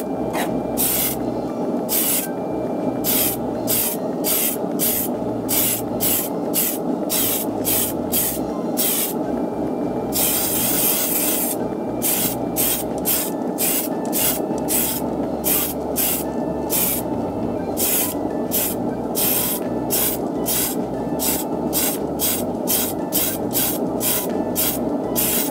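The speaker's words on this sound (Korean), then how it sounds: "스프레이 뿌리실 때는 이제 각진 부분부터 모서리부터 뿌려줍니다." Gloss spray paint hisses from an aerosol can onto a plastic model kit in rapid short bursts, a steady rhythm of close, loud spurts with one longer continuous spray partway through.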